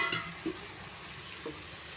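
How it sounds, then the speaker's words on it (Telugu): Cooked brinjal (vankaya) masala curry stirred in a pan, a few soft scraping strokes with light sizzling underneath, close and fairly quiet, no talking. "మసాలా పట్టే వరకు కలపాలి."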